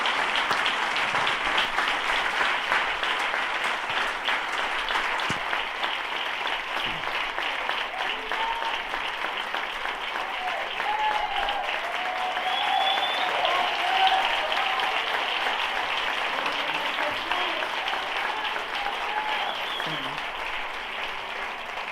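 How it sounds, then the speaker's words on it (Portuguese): A church congregation claps steadily through a worship service, a dense, sustained wash of applause that holds at an even level from start to finish, with faint voices mixed in. "Eu queria que você aplaudisse a Deus muito, mas muito forte pela vida do nosso pastor"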